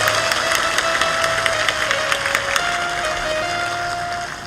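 Loud, sustained applause from a gathered audience at a religious discourse, dense clapping close by with a faint tone from the sound system underneath.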